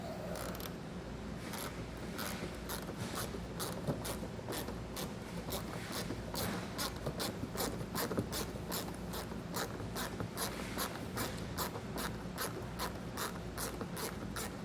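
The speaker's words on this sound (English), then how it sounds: "Got a 1/4 inch driver with an extension." A 1/4 inch driver with an extension turns a Torx screw in a 2018 Tesla fender well, giving a steady, fast run of close, sharp ratchet clicks that continues throughout with no speech.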